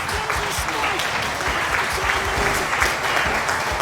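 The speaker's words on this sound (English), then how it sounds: "Thank you for the applause." A crowd claps steadily and densely throughout, sustained applause with no pauses.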